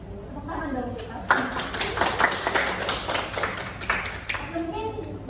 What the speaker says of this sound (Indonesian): Tepuk tangan dong kita.